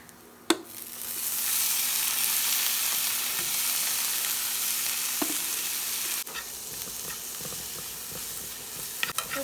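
Pre-boiled corn kernels tipped into a pan of fried onions, bursting into a loud, steady sizzle after an initial clatter, with occasional spoon taps against the pan as it keeps frying.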